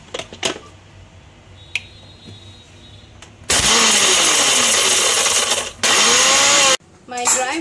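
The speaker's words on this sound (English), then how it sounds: "Now we will grind it. We have dry roasted all the ingredients and we have to grind it in a complete powder form." An electric grinder loudly whirs as it powders dry roasted vegetable masala spices, a steady roar in two bursts separated by a brief pulse, after faint kitchen clatter.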